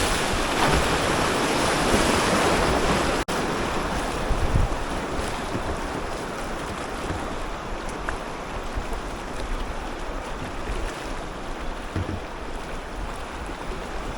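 A kayak runs a class 1 whitewater rapid in the New River Gorge, West Virginia, amid steady, close rushing water with wind buffeting and one sharp knock partway through.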